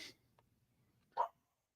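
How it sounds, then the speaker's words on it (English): A dog that is unwell after vaccinations gives a couple of short barks indoors, one faint at the start and a louder, sharper bark just past the middle, with quiet room background between. "my dog is barking, so she had some vaccines today, so she's not feeling well"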